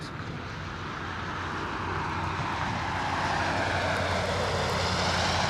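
A Boeing 767 airliner landing at Anchorage, a broad, steady engine roar that swells gradually louder across the whole span, with no talk over it.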